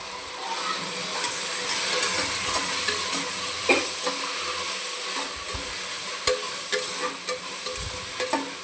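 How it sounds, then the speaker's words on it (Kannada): Chopped tomato and onion fry in oil for a chicken fry dish, with a steady close sizzle under repeated spoon stirs and occasional sharp clicks against the pan, no voices. "ಟೊಮೊಟೊ ಹಾಕಿ ಚೆನ್ನಾಗಿ ಫ್ರೈ ಮಾಡ್ಕೊಬೇಕು"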